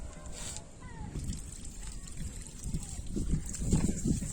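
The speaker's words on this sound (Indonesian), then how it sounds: "Ini kita siram pakai air ya, kita siram dan kita bersihkan." Water sloshes and trickles steadily over the exposed roots of a kimeng bonsai being rinsed clean, close by, with splashy bursts that build toward the end.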